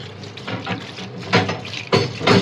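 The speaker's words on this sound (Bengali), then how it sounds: "এখানে ঠান্ডা পানি দিয়ে দিতে হবে" Cold water splashes and pours over boiled pasta in uneven bursts, growing louder toward the end, with no talking.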